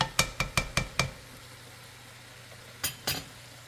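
Rice for Singaporean fried rice, about five cups, is worked in a pan, with a utensil striking it in a quick run of five sharp metallic knocks, a pause, then two more, close and clear over faint background hiss.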